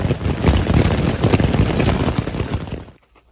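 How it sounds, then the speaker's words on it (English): Hail pounding down on a dispersed campsite in a national forest, a dense, loud patter of hard impacts drumming steadily for about three seconds before cutting off abruptly into near silence. "We're being pounded by hail."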